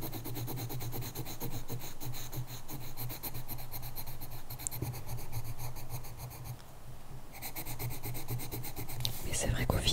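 Pen scratching and rubbing steadily over paper while drawing rosette patterns in a colouring notebook, a continuous close, soft rasping texture with small strokes throughout and a brief pause near the end.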